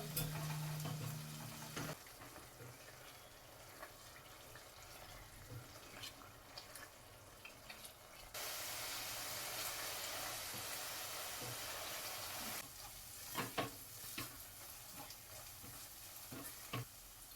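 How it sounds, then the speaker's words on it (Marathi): Paste of three medium onions frying in oil in a pan, a soft continuous sizzle with scattered scraping clicks of a spoon stirring, quiet and close, with a brief louder stretch in the middle. "मीडियम साईजचे 3 कांदे पेस्ट करून घेतलेले आहेत. तेलामध्ये गोल्डन ब्राऊन होईपर्यंत परतून घेऊया."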